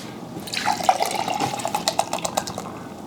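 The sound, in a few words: beer being poured into a glass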